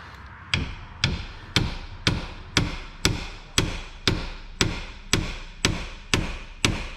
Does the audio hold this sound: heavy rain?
no